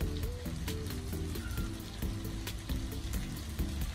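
Grated potato rösti frying in a pan, a steady close sizzle and crackle over a busy background with a repeating musical pattern, no talking heard.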